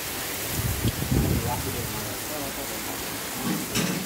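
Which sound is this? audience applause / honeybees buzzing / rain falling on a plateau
rain falling on a plateau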